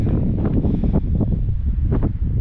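Strong wind blows steadily outdoors on a cold spring day on a roadside in the western USA, loud and close, buffeting the microphone with a constant low roar and no voices.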